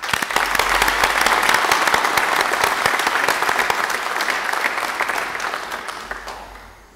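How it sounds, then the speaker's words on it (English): Sustained applause from a large audience at a graduation ceremony fills the space, steady then gradually fading out at the end. "Please join me in giving them a round of applause."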